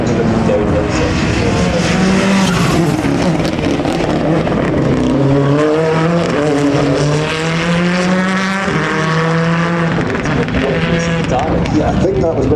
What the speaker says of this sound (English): It's a flipped-on body shell, but it's got Mitsubishi Evo running gear inside it